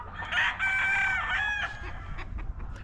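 A bulik gamefowl rooster crows once, close and moderately loud, with a drawn-out call lasting over a second, followed by a few soft clucks against a quiet farm background.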